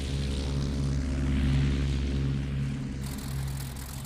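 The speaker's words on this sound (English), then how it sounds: "the twin-engine Gothas." Twin-engine German Gotha bomber aircraft from the First World War drone steadily, with a loud, continuous propeller-engine roar and throbbing low hum that swells slightly midway and never pauses.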